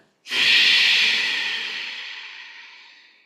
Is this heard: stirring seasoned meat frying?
no